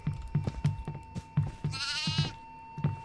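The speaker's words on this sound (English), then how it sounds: "Yep, goat. Come here, goat." A goat bleats in a drawn-out, wavering cry near the middle, set against a string of soft, rhythmic low thumps and a steady faint tone.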